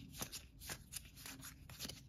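A deck of board game cards from an adventure party expansion being handled and separated, with brisk, close papery riffles and flicks repeating in quick bursts at a faint level.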